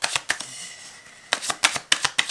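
An oracle card is drawn from a deck: a few quick papery flicks and snaps in short bursts, a quiet pause, then a run of crisp card riffles close by with no voices.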